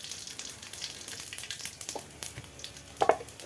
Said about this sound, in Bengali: জিরা ফোড়ন দিয়ে দিচ্ছি